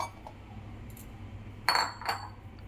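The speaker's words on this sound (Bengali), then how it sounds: "এবার ঢাকাটা তুলে দেখে নিচ্ছি" A metal lid is lifted off a cooking pot holding semolina sweet dough, giving two quick, bright clinks close by against a quiet kitchen background.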